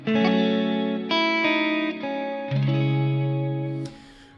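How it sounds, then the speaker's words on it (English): Electric guitar chords are layered with a looper, sustained distorted chords shifting every second or so with ringing upper notes on top, close and loud, ending with a bright pick scrape. "So if I play both at the same time with my looper, it sounds like this."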